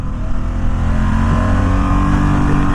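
A 2017 Ducati XDiavel S motorcycle engine pulls hard under acceleration, a loud close continuous roar with deep rumbling tone that holds steady and strong the whole time, no voices.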